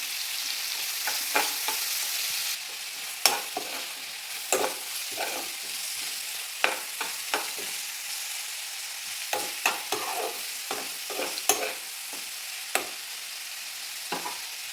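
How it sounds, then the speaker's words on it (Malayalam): Chopped onions with salt sautéing in a pan, a constant sizzle broken by repeated scraping strokes of a spoon stirring, close and fairly loud, no talking. "നന്നായിട്ടൊന്ന് വഴറ്റി കൊടുക്കാം."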